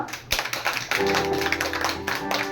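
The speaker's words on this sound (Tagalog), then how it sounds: "pwede ba namin marinig ang malakas na palakpak mula sa inyo?" A church congregation breaks into loud, dense applause after a brief pause, with sustained instrumental tones rising beneath the clapping.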